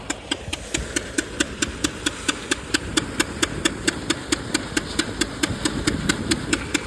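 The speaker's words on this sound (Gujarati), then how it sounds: "અને જો હલર કમ્પ્લીટ ચાલુ છે" A thresher machine runs steadily on a farm, its engine humming under a fast regular knocking beat that repeats about three times a second, close and loud throughout.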